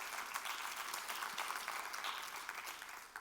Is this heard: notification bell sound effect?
no